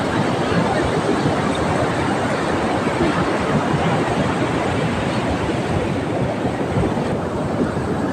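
Ocean waves wash onto a seashore in a loud, dense, continuous roar of surf with wind rushing across the microphone, sustained and steady without clear breaks.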